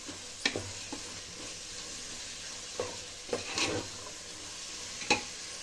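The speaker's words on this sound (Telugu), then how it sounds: "బాగా కలుపుకొని పచ్చివాసన పోయేంత వరకు కొంచెంసేపు కుక్ చేసుకోవాలి" A pappu biryani mixture of lentils and masala is stirred in a pan, with a soft steady sizzle broken by a few scraping clicks of the spoon, faint and close, with no talking.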